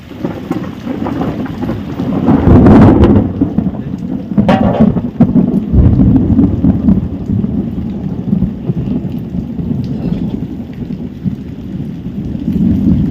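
Thunder rumbles loudly over rain in a village near Botad, a heavy crack and roll rising early and again midway, with steady rain pattering on surfaces throughout.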